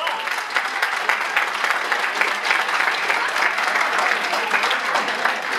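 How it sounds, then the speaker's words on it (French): Crowd applause at a wrestling match, dense and continuous clapping from the audience that stays at an even level from start to finish, without any talk over it. "Un peu d'applaudissements pour eux."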